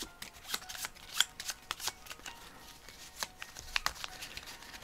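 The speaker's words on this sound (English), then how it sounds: "The only thing about shuffling a small deck, if sometimes it feels like you never shuffle it enough" Small deck of cards shuffled by hand during a tabletop game, a series of quick crisp riffling bursts and taps in an irregular rhythm, close and fairly quiet.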